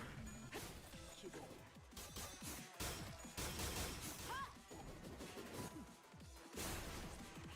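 An unbreakable coin barrage attack in the video game Limbus Company lands as a rapid flurry of smashing, whacking impacts in dense bursts, with a few short pauses between volleys.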